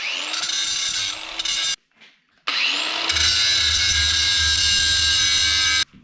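A power grinder whines loudly against a welded steel steering shaft for a go-kart build, grinding off high spots in two bursts separated by a brief pause.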